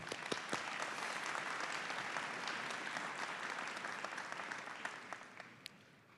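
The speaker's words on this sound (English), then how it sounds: "another round of applause for Mr. Howard" Warm, sustained applause from a large crowd at a high school graduation ceremony, with scattered sharper claps standing out before it gently tapers near the end.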